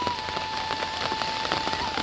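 Steady rain patters on a farm field in the Konkan region where traditional paddy farming goes on, a dense, even hiss of drops with no voices.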